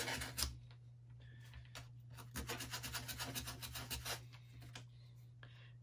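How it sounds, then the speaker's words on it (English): Sandpaper rubbing over wooden UGears model parts on an Aviator kit, a quiet, close rasping in short repeated strokes with brief pauses between bursts. "I would apply a little bit of a sanding on the surfaces because there's connection points."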